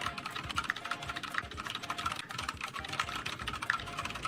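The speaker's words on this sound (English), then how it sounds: "let's see how fast I type on the split keyboard versus a traditional one" Fast, continuous typing on a split computer keyboard during a speed test, a dense stream of close, crisp key clicks with no pauses and no voices.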